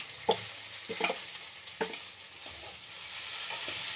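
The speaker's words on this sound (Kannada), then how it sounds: "ಬೆಂದಿದೆ ಬದನೆಕಾಯಿ ಇಷ್ಟು ಫ್ರೈ ಆದರೆ ಸಾಕು ಇದಕ್ಕೆ ಒಣಮೆಣಸಿನ್ಕಾಯಿ ಹಾಕೋಣ" Brinjal pieces frying in a pan with dried red chillies, a steady sizzling hiss broken by several stirring scrapes, close and fairly loud.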